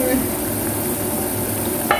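Steady bubbling and sizzling from a pot of chicken boiling on the stove over low heat, a continuous simmering texture with a brief clink near the end.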